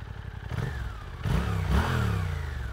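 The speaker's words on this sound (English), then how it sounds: "Might as well do a quick sound demo here." A Suzuki GSX-8S motorcycle with a stainless 2-into-1 underslung exhaust idles with a steady low burble, then a blip of throttle lifts the engine note into a short rev that holds. Close, with no talking.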